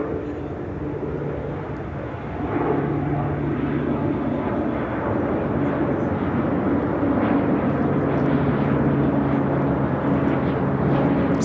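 Southern Airways Express Cessna Grand Caravan turboprop taking off at Chicago O'Hare, a droning propeller-engine roar that swells after a couple of seconds and holds steady and fairly near, with a low tonal hum underneath.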